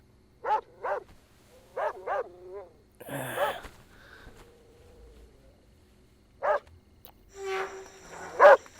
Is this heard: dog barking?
yes